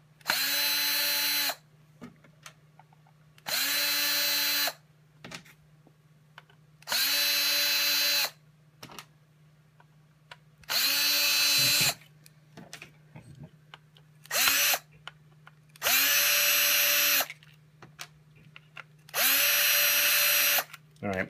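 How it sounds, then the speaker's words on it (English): A cordless power screwdriver backs screws out of a VW MK3 instrument cluster in seven short whirring bursts, each a second or two long, separated by pauses with quiet handling noises and a steady low hum. "So you don't need a screwdriver to do this, but it makes the job a lot easier."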